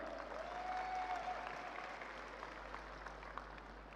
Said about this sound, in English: Applause for our amazing dancers.